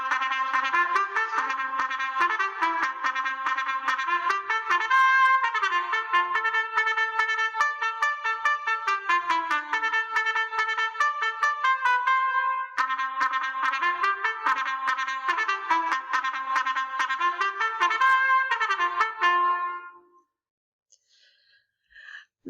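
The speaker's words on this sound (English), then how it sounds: "The trumpet sounds like this." A bright trumpet plays a lively run of notes for about twenty seconds, steady and fairly loud, then stops abruptly, leaving near silence.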